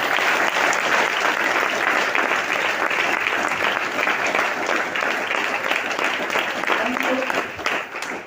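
Sustained, loud audience applause at a direct-selling business seminar, a dense wash of many hands clapping steadily for about eight seconds before thinning slightly at the end.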